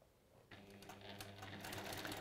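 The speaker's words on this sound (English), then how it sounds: "I'm going to sew back down that line that I've just sewn" A sewing machine runs back along a freshly sewn seam line through quilting fabric, starting after a short quiet pause and then stitching steadily and close for the rest of the clip.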